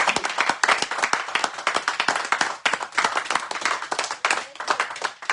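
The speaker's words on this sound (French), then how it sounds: "Acclame pour la parole de Dieu." A church congregation claps and applauds during a service, a dense run of sharp hand claps that rises and dips without stopping; no one speaks over it.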